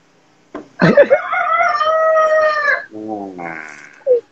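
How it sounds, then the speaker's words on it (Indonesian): A rooster crows loudly and close by in one long drawn-out call, followed by a shorter trailing cry and a brief cluck, standing alone without talk. "Ada ayam backsoundnya."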